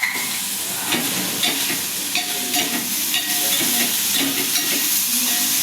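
Fish fries in a pan with soy sauce just added, giving a steady, close sizzle with occasional stirring scrapes and clinks, and no voices.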